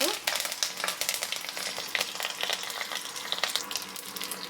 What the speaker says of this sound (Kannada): ಸಾಸಿವೆ ಜೀರಿಗೆ ಎರಡು ಚಟ್ಪಟ ಅಂದಮೇಲೆ